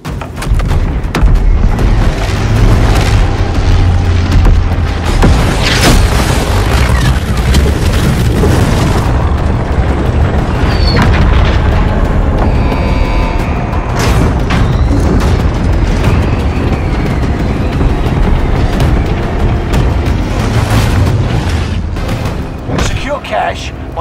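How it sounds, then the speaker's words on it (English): Missile strikes in the Call of Duty video game land as a continuous barrage of heavy booms and blasts, loud and close, with a voice talking over parts of it. "missile dropping into the area"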